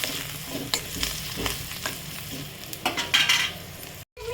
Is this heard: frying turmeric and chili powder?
yes